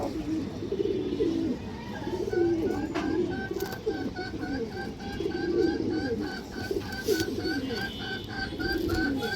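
An army female pigeon cooing close by in repeated soft, rolling coos, with faint chirps and background noise around it and a little low voice now and then.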